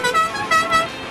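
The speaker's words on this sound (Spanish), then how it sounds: "¿Se podrá conseguir claxons de estos en el mercado?" A musical car horn plays La Cucaracha, a loud bright multi-tone melody of short honked notes rising and falling, up close and alone without talk.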